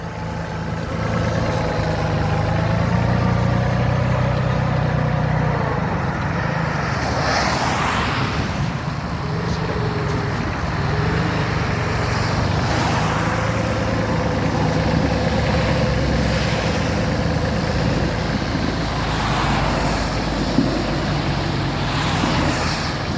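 A Solis 26 tractor engine rumbles without a break while clearing snow, idling at a constant level, with faint wind-like noise over it.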